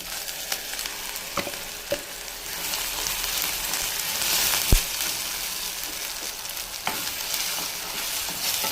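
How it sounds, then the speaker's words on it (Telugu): Tomato sizzling in hot oil with ginger garlic paste in a pan, a steady loud frying hiss with occasional sharp clicks of a spoon stirring. "టమాటా కూడా వేసుకొని అది కూడా కొంచెం బాగా ఆయిల్ పైకి వచ్చేంత వరకు ఉడికించుకుందాం"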